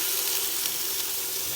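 Tomatoes dropped into onions frying in a pan, a steady bright hiss of sizzling oil holding loud and even throughout with no talk.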